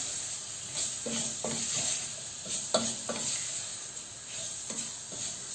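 Onions and garlic sizzle steadily in a pan while a utensil stirs and scrapes in repeated strokes, close and fairly quiet.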